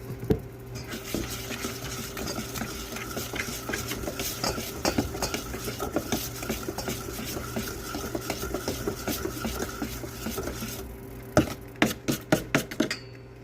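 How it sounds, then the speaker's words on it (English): Hot milk and sugar being stirred into an egg mixture in a pot: steady scraping and swishing of a utensil for most of the time, ending with a few sharper clinks against the pot. "I'm going to slowly start adding some hot egg milk into the eggs."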